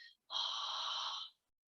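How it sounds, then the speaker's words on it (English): A single long breath pushed out through the side of the mouth during a pelvic floor exercise, a close, steady airy hiss lasting about a second after a short earlier puff. "you're breathing out through that side exhale"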